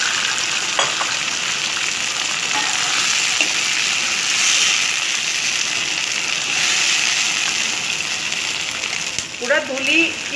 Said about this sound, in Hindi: ये मैं थोड़ा सा इसमें पानी भी डालूंगी।